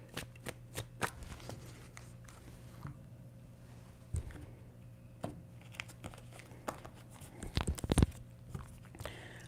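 Tarot cards are shuffled by hand in repeated riffling and slapping bursts, close and crisp, growing busier toward the end.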